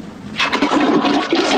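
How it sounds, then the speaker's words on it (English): A toilet flushes in one rushing surge of water that starts sharply and carries on loud to the end, with no talk over it. "It flushed! It flushed!"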